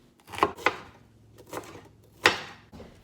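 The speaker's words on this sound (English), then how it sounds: "We're going to start this recipe by chopping half of a sweet bell pepper." Half a sweet bell pepper being chopped on a board for campfire Dutch oven jambalaya, five or six sharp close knife knocks in an uneven rhythm with no talk.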